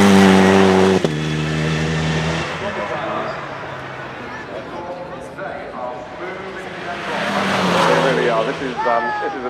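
A supercar drives past at the Goodwood Festival of Speed 2019, its engine note rising and falling over steady crowd and track noise while someone talks over it throughout.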